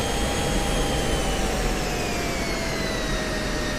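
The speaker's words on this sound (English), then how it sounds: "Listen, I can hear the engine." Steady F-16C Viper jet engine whine in the DCS World flight simulator, a continuous broadband roar with high tonal lines slowly falling in pitch, loud and unbroken with no talking.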